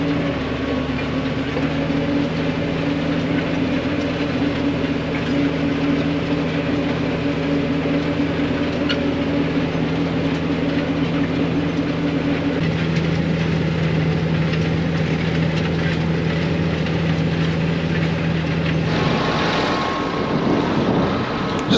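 A farm tractor engine drones steadily while driving across a winter wheat field, a loud continuous rumble with a constant hum that holds for about twenty seconds before shifting near the end.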